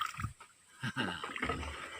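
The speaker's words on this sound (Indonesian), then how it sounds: "Betapa susahnya mendayung perahu dengan betul nih" Wooden paddles dip and pull through river water from a wooden boat in a few uneven strokes, with soft splashes and gurgling close by.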